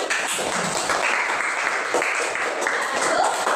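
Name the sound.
class applause after group presentation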